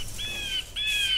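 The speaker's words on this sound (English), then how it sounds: "These are birds!" Birds squawk in a video game, two bright, wavering high-pitched calls in quick succession over a low steady background hum, with no talking.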